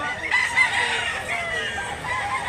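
A rooster crows at a gamefowl farm in Mantalungon, Cebu, a loud drawn-out call close by over steady background noise.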